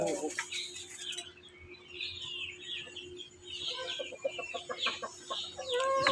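Rhode Island Red chickens clucking and cackling in a free-range flock, with scattered nearby clucks and calls throughout, faint background voices mixed in.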